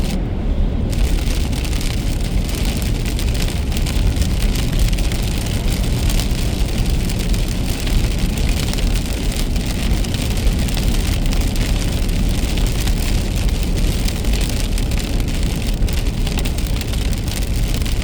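Rain falls steadily on a car driving around New Jersey, a dense continuous patter over low road rumble, loud and unbroken throughout with no talking.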